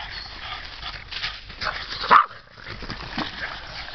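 A dog gives one short, sharp bark amid quiet outdoor background noise.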